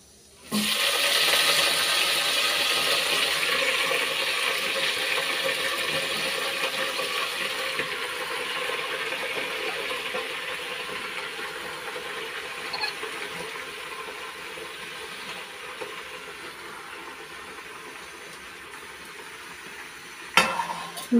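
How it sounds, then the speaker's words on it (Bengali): Lai mustard leaves dropped into hot oil set off a sudden, loud, steady sizzle heard up close, fading gradually over twenty seconds before a brief clatter near the end. "তো তেলটা তো ভালো করে গরম হয়ে গেছে, তো এখন দিয়ে দেব লাই পাতাটা তেলের মধ্যে।"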